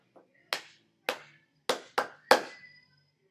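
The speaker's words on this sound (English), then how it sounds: "I clap first, you clap it back to me." Hand claps in an irregular copycat rhythm exercise, five sharp claps after a faint first tap, spaced unevenly and moderately close, with no talking.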